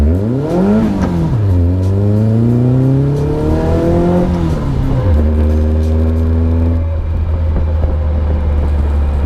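A loud, close Caterham Seven 360R sports car engine revs up in repeated climbing surges, pitch rising and dropping between gears, then settles into a steady drone.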